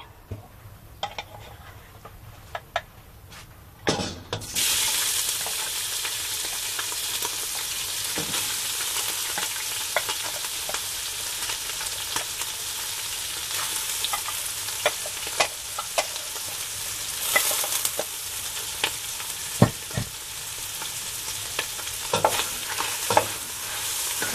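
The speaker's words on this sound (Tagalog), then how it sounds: "inuna ko po muna ang chicken para ma-fry muna po siya ng konti" Chicken frying in a pan as the first step of pancit bihon guisado: a loud, steady sizzle that flares up after a few seconds, broken by repeated scraping and clinking of a utensil stirring the pieces.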